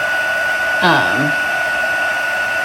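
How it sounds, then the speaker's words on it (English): A heat embossing tool warms puff paint on a handmade card, a loud steady fan-like blowing hum throughout with a constant tonal whine and a brief shift in pitch near the start. "I'm going to kind of heat this from the bottom first"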